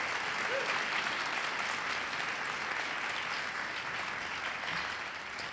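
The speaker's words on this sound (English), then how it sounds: "Please give them another round of applause." Sustained applause from an audience at a Boston University Martin Luther King Jr. Day event, a dense, even wash of clapping held steady throughout at moderate, somewhat distant loudness.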